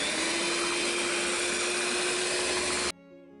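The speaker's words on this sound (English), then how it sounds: "Alright, so next we're finna blend with this blender type thing." A blender whirs steadily while mixing pumpkin cake batter for a Halloween bake, running at an even, loud pitch for about three seconds before cutting off abruptly.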